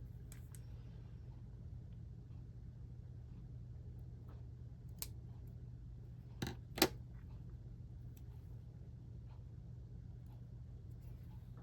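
Scissors cut out a letter V shape in a few brief, sharp snips clustered near the end, over a steady low hum with no talking.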